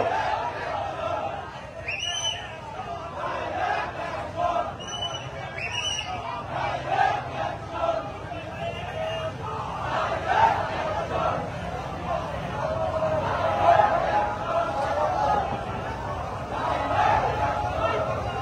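A crowd chants and cheers in a political victory procession in Gazipur, a dense, loud roar of many voices with raised shouts rising and falling, and a couple of high whistle-like calls early on.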